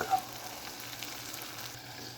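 Potatoes and onion cook down in a pot for potato and onion soup, giving a low, steady sizzle with faint crackles, quiet and uninterrupted by voices.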